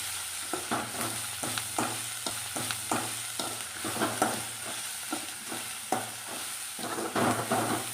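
Onion-based mix being sautéed with salt in a pan before batter goes in, heard as a steady low sizzle with regular scraping strokes of a spoon stirring, near and moderate, with no speech.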